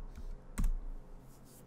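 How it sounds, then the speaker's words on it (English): Computer keyboard typing, a few soft scattered key clicks with one slightly louder tap, faint and close with a low background hum. "You'll just type in the name of the plugin."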